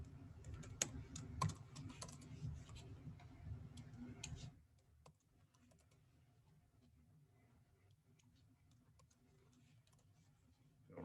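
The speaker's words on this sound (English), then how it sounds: "I could type." Fast, close clicking of computer keyboard keys fills the first few seconds, then drops to a few faint, scattered clicks in a quiet room.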